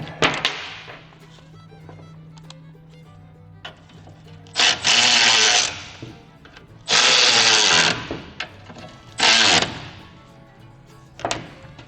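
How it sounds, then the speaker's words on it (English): A cordless power drill drives nuts down on a bolt during a CV axle swap on a Kubota RTV 500, running in several short, loud whirring bursts separated by quiet pauses and light clinks of handling. "I think I'll have to drive those nuts down to get that to work."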